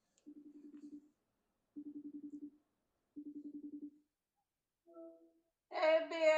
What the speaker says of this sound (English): So I have to call her from my Mac because I'm shooting with my phone right now.